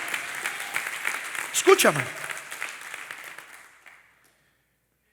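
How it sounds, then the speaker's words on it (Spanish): A church congregation applauds during a Sunday sermon, a dense patter of clapping that swells briefly, then thins and fades out; a preacher's voice is heard over the applause. "¿Puedo darle un aplauso al Señor?"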